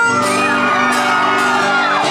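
A concert crowd of fans at a show shouts and whoops together on the singer's cue, a loud sustained roar of many voices over ongoing music.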